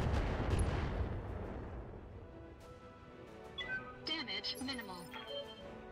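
Heavy mech weapons in the BattleTech video game boom loudly at the start and then fade into a rumbling decay, with electronic tones and effects rising later.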